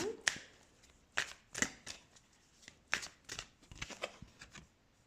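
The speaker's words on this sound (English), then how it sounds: "Let's shuffle some tarot cards." Tarot cards being shuffled by hand, a series of crisp riffling bursts and soft slaps in irregular rhythm, close and fairly quiet with no talk over them.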